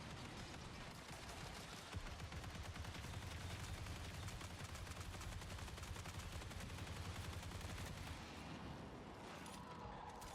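Continuous gunfire from a weapon in the sci-fi shooter Marathon, a dense steady stream of shots over about ten seconds with loud layered game ambience and no talking.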